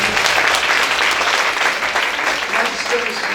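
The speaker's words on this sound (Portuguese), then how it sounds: "Aplaude o Senhor." A church congregation applauds together after a prayer, with loud, dense, steady clapping that fills the whole stretch without a break.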